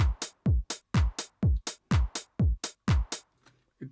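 A simple programmed drum groove built in Ableton Live 12 plays alone, its punchy low kicks sweeping down in pitch and alternating with crisp snare hits in a steady, even beat that stops near the end.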